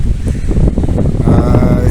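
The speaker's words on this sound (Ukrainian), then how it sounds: "на початку літа сильні вітри от як сьогодні" Strong early-summer wind over farmland buffets the microphone with a heavy, continuous low rumble that rises and falls slightly, with no voices.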